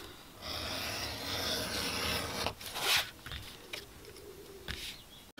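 An edge beveler shaving a chamfer along the edges of a leather strop makes a steady close scraping rasp, broken into several strokes with small handling knocks between them.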